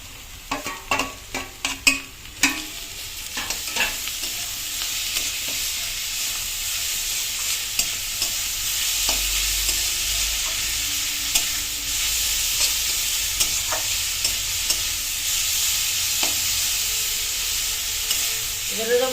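Beetroot fries in a pan while being stirred, with a run of sharp scraping clatters at the start before it settles into a continuous close sizzle that carries on to the end.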